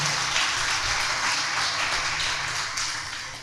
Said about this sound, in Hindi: हाँ तो बजाओ ताली